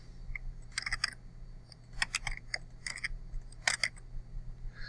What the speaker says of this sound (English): type your question, type your answers